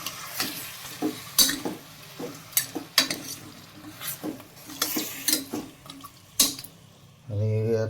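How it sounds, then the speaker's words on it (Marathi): Chicken stirred in a hot pan, with repeated scraping and clattering strokes over a soft sizzle, ending in a brief low hum. "आता याच्यात आपण चिकन टाकून घेऊ मस्त असं चिकन टाकलं आहे सगळं आता याला सगळं परतवून घेऊ"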